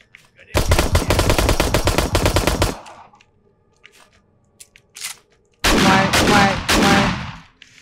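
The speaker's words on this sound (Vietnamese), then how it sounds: "Thằng này nó bắn shotgun auto mạnh" An automatic shotgun in the video game 7 Days To Die fires two long, rapid, loud bursts separated by a few seconds of quieter game ambience with small scattered noises.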